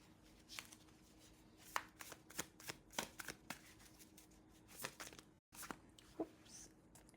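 Tarot cards are shuffled by hand in a series of quick papery riffles and slaps, a dozen or so crisp bursts at close range with short pauses, no talk.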